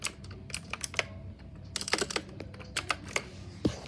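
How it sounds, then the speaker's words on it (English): Keystrokes on a Gigaware K28 mechanical gaming keyboard, sharp clicky taps in quick irregular bursts with brief pauses, close and fairly quiet, with no talking. "this is my first mechanical gaming keyboard"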